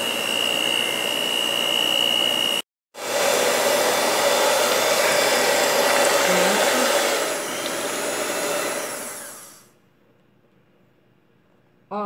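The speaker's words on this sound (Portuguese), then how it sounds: "A batedeira tá aqui, deixa eu botar ali pra não fazer sujeira, ó, vou ligar, deixa eu começar a bater." An electric hand mixer beats a homemade bar soap mixture made with baking soda, a loud steady high-pitched whir that cuts out briefly, resumes, then winds down and stops.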